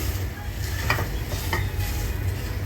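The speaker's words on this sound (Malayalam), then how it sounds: "നന്നായിട്ടൊന്ന് വഴറ്റിയെടുക്കുക കേട്ടോ നല്ല പോലെ തവി വെച്ചിട്ട് ഒന്ന് ഇങ്ങനെ പ്രസ് ചെയ്ത് പ്രസ് ചെയ്ത് എടുക്കണേ" A spoon stirs and presses a banana, bread and coconut mixture in a pan, with a steady sizzle underneath and a few soft scraping strokes, loud and close.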